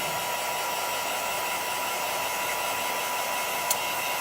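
Hair dryer blowing to dry chalk paste on a small craft piece, a steady loud rushing whir held throughout, with one tiny click near the end.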